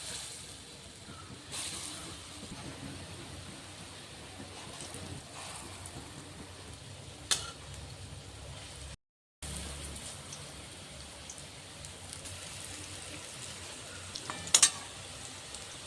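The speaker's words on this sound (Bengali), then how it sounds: "এবার আমি বড়া ভেজে নিচ্ছি" Lentil fritters (bora) frying in oil, a faint continuous crackling sizzle like light rain, broken by a couple of brief clicks and a short silent gap.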